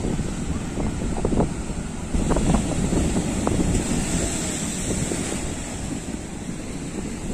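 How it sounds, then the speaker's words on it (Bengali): Rough sea surf surges and breaks continuously onto a beach in the evening, a steady loud roar mixed with heavy wind buffeting the microphone. "দেখো কত দূর থেকে ঢেউগুলো আসছে, কিভাবে আসছে দেখো"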